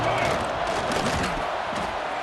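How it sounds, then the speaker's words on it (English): Stadium crowd roaring at a Texas Tech home college football game on third down in EA Sports College Football 26, a loud continuous swell of cheering that holds steady throughout. "The crowd electric, trying to help Tech on this 3rd down."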